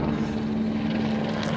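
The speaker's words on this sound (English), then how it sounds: "Helicopter passing over" A helicopter passes overhead as a steady, moderately loud rotor and engine drone, continuous throughout with no speech.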